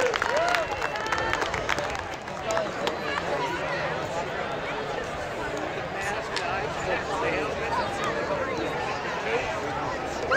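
An audience at a small live music show claps steadily and cheers, with crowd chatter mixed in. The dense, continuous applause holds at an even level throughout.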